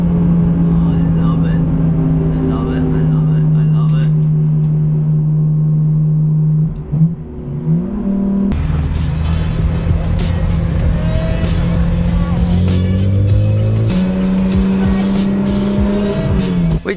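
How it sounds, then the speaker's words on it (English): Race cars scream around the Nürburgring track, high-revving engines rising and falling as they pass, with tire squeal and shifting pitches. Loud and continuous, mixed with people talking. "wherever you are in these little small towns or whatever around the track, you can hear the cars just screaming"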